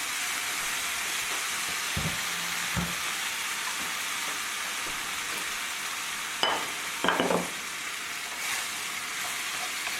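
Onions frying in a pan as a base for dal make an even, moderate sizzle throughout, broken by a few sharp utensil clinks and scrapes, with no talking.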